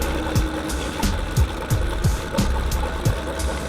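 A Corvette idles at a Tx2k street-car event, with repeated short whooshing pulses of blow-off valve and exhaust popping in an uneven rhythm over a low engine drone.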